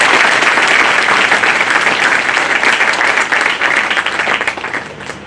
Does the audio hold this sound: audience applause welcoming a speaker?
yes